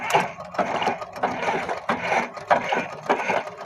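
A household sewing machine fitted with a multi-purpose presser foot stitches fabric in quick rhythmic bursts of rattling clatter, loud and close, with brief pauses between runs.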